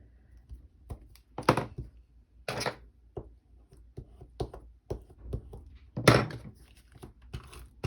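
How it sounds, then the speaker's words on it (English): Tape runner laying adhesive on a scrapbook album page, with a series of close, sharp taps, crinkles and short rasping strips of tape in irregular bursts, without talk. "then I'll use my tape runner"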